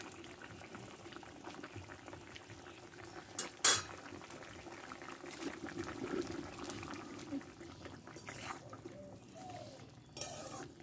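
Fish curry with potato and ridge gourd simmering in a pot, a faint steady bubbling with a sharp clink of a utensil partway through and soft murmurs of talk.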